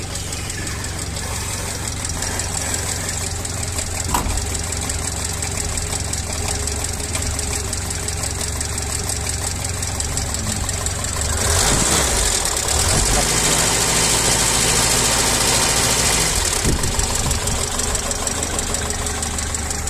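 A 1977 Renault 5 engine idles steadily with a rough, knocking rumble, growing slightly louder partway through; a voice may be faintly present underneath.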